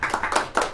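An audience at a Marathi devotional abhang and bhakti song concert claps briefly, a short burst of several hand claps close by with a faint voice mixed in.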